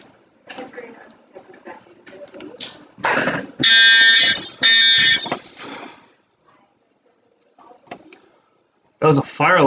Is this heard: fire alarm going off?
yes